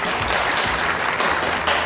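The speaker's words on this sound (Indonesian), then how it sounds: "sekali lagi dong, tepuk tangannya yang meriah" Loud, lively applause from an audience at an emcee-led event, dense continuous clapping filling the whole moment without pause.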